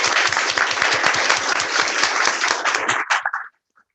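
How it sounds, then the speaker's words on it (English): At a city council meeting, a room claps for the city's first class of interns, brisk crowded applause that thins out to a few last claps and stops near the end, fairly close. "Give yourselves a round of applause"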